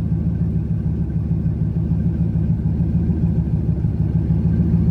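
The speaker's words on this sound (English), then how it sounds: "Let's let this thing idle and cool down a bit." A drag car engine from a no-prep race build idles steadily after a run, a continuous low loud rumble with its revs settling downward, no voices over it.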